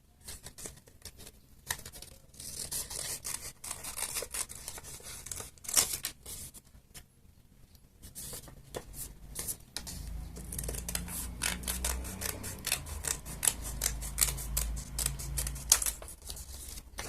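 Scissors cutting through paper for a homemade Mario mask, a series of crisp snips and rustling paper, close and fairly loud, with short pauses between cuts.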